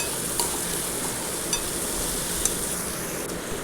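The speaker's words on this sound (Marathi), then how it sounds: "आता मिक्स केली त्याच्यामध्ये कांद्यात." Soaked dal and onions are stir-fried in a pan with a loud, dense, continuous sizzle, broken by a few faint utensil clinks.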